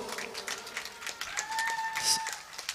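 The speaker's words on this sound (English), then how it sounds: "A big round of applause." Audience applause at an international management conference, a brief burst of clapping from a crowd that swells and fades, with a voice speaking over it.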